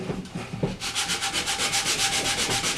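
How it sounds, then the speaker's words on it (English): Sanding a wooden dovetail stool with coarse 60 grit sandpaper by hand, a rhythmic back-and-forth rasping in quick even strokes, close and steady after a short quieter start. "Then you can take your sandpaper,"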